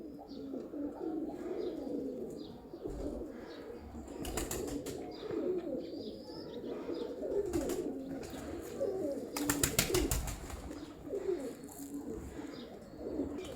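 Pet pigeons of a pigeon keeper's champion birds cooing in a loft, a dense overlapping murmur of low coos with occasional chirps and a few bursts of wing flapping, close and steady throughout.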